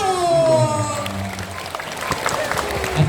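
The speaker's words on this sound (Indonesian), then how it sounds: "Beri tepuk tangan yang meriah untuk Asmaul." An audience applauds at a school event, steady clapping running through the clip, with a tonal voice or sound in the first second.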